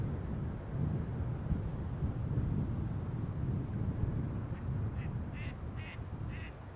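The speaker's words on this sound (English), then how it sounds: "Ducky's doing a flyby." A duck flying past lets out four quick quacks near the end, heard over a constant low wind rumble.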